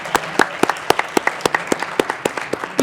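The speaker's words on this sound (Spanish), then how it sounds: "Y gracias por un aplauso para él." An audience at a book presentation at the FIL Guadalajara 2024 book fair gives a few seconds of applause: a small group clapping sharply and fairly close, individual claps standing out in an uneven rhythm.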